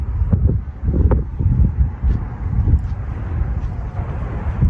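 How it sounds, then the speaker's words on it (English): Strong outdoor wind buffets the microphone in loud, uneven low rumbling gusts that continue throughout with no speech. "there's the wind"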